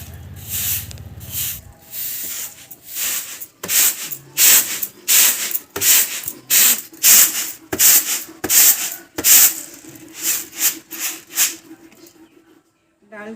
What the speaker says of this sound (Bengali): ওই জন্য ভালো করে ঝাঁট দিয়ে দিচ্ছি